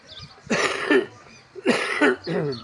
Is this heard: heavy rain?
no